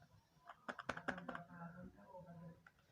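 Someone types C code on a computer keyboard, producing a quick cluster of key clicks close to the microphone, faint overall, with a low voice in the background.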